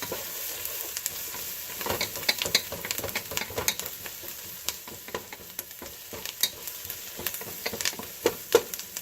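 Onions fry in a pan for spaghetti while being stirred, a steady sizzle broken by repeated sharp scraping and tapping strokes of a spoon against the pan.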